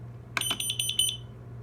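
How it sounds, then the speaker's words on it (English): A household smoke alarm under test gives a brief series of about six sharp, high, rapid beeps, close and loud, over a low steady hum. "Testing 2 alarms today."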